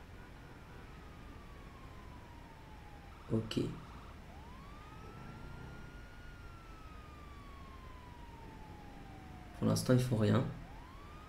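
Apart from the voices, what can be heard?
police sirens in video game GTA 5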